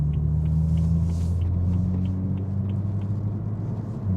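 A modified BMW M135i idles with a deep, steady engine and exhaust rumble, continuous and fairly close, with faint ticking above the low drone.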